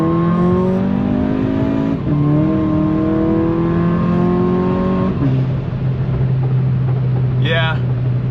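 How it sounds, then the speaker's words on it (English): An MK6 Volkswagen Jetta GLI with APR coil packs and a JB4 tune rips hard through first gear from about 10 mph, its engine note climbing in repeated sweeps between shifts, loud and close from inside the cabin. "I'm gonna give it a first gear rip at like 10 mile an hour here."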